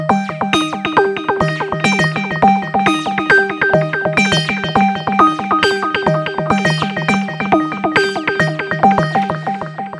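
A System-1m synthesizer driven by a MIDI track plays a fast, bright arpeggio, with rapid repeating notes cycling through a pattern at a steady rhythm, loud and continuous without any voices.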